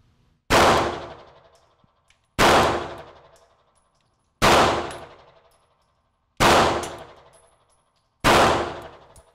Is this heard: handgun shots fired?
yes